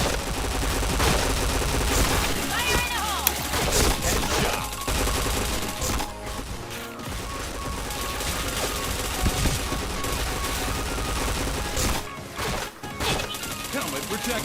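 Rapid gunfire in the PointBlank online shooter, dense bursts of automatic and single shots running almost nonstop over a busy game mix, loud and close.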